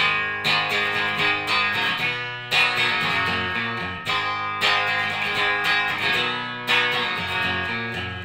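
Distorted electric guitar chords strummed in a steady, repeating rhythm, with accented hits every couple of seconds; loud and alone, no talking.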